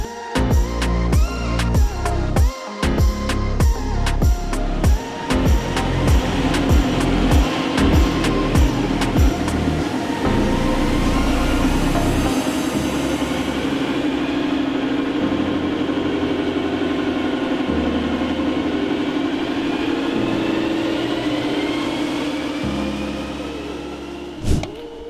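A 2018 Audi A3 S-Line 2.0 TDI diesel revs on a dyno after a remap. Loud, close gear-by-gear pulls with rising engine pitch give way to a long sustained high-rev climb, which fades as the run ends.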